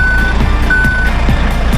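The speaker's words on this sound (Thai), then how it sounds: "เสียงถอยด้วยครับ" A truck's reversing beeper chirps in a steady repeating rhythm over a loud, rumbling engine idle.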